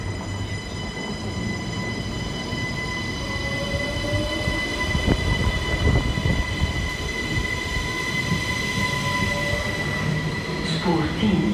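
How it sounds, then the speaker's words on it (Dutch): An NMBS Desiro Mainline train rumbles through Antwerpen-Berchem station with rolling wheel noise and occasional brake squeals, steady and fairly loud, with faint background voices. "de IC-trein naar Antwerpen Centraal van 17:07, komt zo dadelijk aan"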